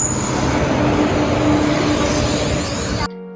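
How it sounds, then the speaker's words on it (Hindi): A train pulls into a station on the way to Vrindavan with a loud, close rumble of wheels on rails and a sustained squealing tone. The noise ends abruptly near the end, leaving a faint hum. "तो फाइनली हमारी ट्रेन आ गई है"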